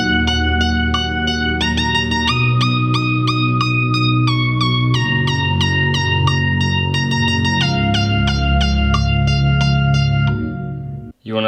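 A looped synth melody, rebuilt in GarageBand from copied and pasted notes, plays loud and steady with bright plucked leads over sustained low chords, stopping abruptly near the end.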